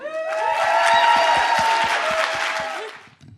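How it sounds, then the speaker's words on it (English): An audience at a live storytelling event at a scientific conference applauds and cheers, sustained clapping with whoops rising and then fading out. "So please give a warm round of applause to Janine Krippner."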